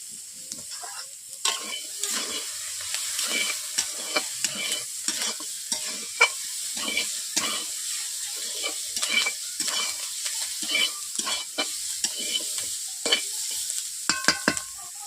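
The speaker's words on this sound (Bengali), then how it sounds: "বন্ধুরা দেখতেই পাচ্ছেন সবজিগুলো ভাজা হয়ে এসছে।" Mixed vegetables fry in a pan on the stove, with a steady sizzle under repeated scraping and clacking of a spatula as they are stirred, close and continuous throughout.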